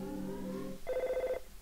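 An EarthBound video game telephone rings with a short electronic trill, a steady tone that cuts off after about half a second and comes through clearly with no talk over it.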